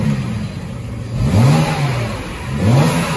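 A BMW biturbo engine with a full stainless exhaust and its valve closed is revved twice. Loud, muffled rising blips swell over a steady idle rumble, close by.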